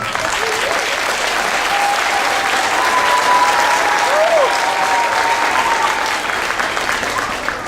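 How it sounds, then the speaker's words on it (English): Loud, continuous audience applause for the staff at a school beginning band concert, dense clapping from a packed room, with faint whistles or cheers threaded through the middle before it eases slightly at the end. "Can we give them a round of applause?"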